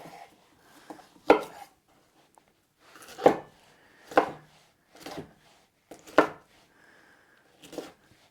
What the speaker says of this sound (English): And for the stir fry, I'll cut it into little cubes.